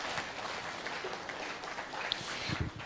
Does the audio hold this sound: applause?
yes